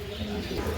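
Pigeons kept for sale cooing close by in a short, soft, low burst, with faint background murmur.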